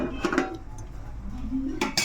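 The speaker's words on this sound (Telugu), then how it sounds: "మూత పెట్టేసుకోమా." A lid goes onto a pot of simmering mushroom chicken curry with clinking metal knocks, a couple of clanks early and a sharper clatter near the end, over a steady low kitchen hum.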